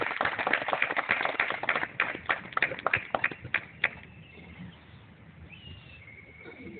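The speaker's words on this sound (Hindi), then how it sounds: "एक बार जोर से तालियां बजा के" Audience clapping at a BJP Delhi public gathering, a burst of brisk hand claps over the first few seconds that thins out and stops, leaving quiet room tone with faint background chatter.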